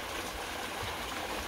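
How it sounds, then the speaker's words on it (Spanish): A small waterfall flows in a natural outdoor setting, a steady broadband rush of water with no talk. "De allá viene esa cascadita."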